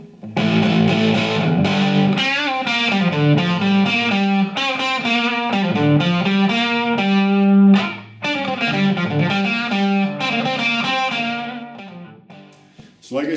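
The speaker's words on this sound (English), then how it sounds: "So like I said, it's very quiet, but it's good distortion." Distorted electric guitar through an Emery Sound Microbaby 1–2 watt tube amp, guitar volume maxed, playing a steady run of chords and notes, thick and gritty in tone, continuous throughout with a brief dip near the end.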